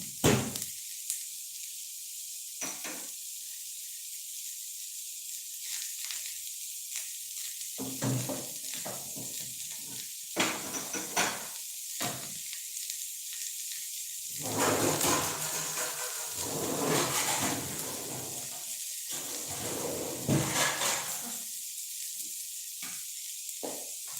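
Onion frying in a pan for honey chilli potato gives a steady, close sizzle that swells into louder crackling bursts now and then, with no talking.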